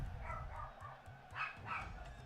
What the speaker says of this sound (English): I go see what the dogs are barking about